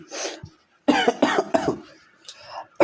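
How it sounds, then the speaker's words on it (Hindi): A person coughs several times in a quick burst, harsh and close, with short raspy throat sounds between the coughs. "थोड़ा खांसी आने लगी यार"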